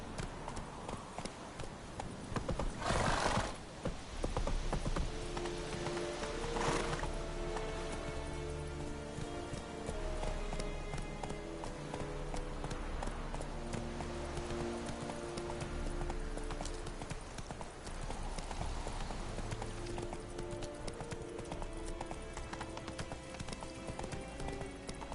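Roach, a horse in The Witcher, trots at a steady even clip-clop of hooves through the whole stretch. Rain-like hiss and a low musical drone sit underneath, and a brief voice breaks in near the start.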